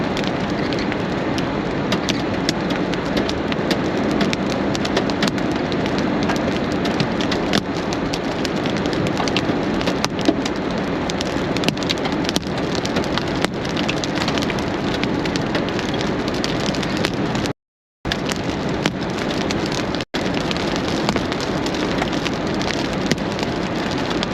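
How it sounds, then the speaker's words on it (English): Pea-sized hail falls on surfaces during a storm near Lamar, Colorado, a loud, dense, continuous patter of tiny impacts with sharper ticks scattered through it, briefly cutting out once, with no talk. "Pea-sized hail so far."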